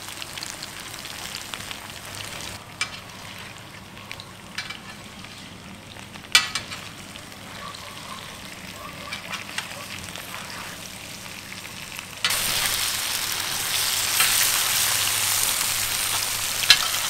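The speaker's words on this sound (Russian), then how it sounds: "Ну что, наша картошечка тоже уже пожарилась." Potatoes frying in a pan for a Georgian ojakhuri of potatoes and meat give a steady close sizzle with faint stirring scrapes, swelling into a louder, denser hiss near the end.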